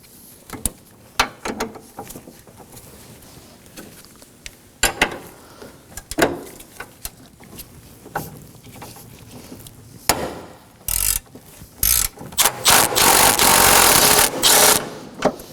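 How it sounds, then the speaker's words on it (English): A ratchet with a thin-wall 14mm socket works a bolt loose on an Acura MDX engine mount, with irregular clicks and knocks that build into loud rapid ratcheting near the end. "Grab yourself a thin wall 14mm socket and remove that bolt."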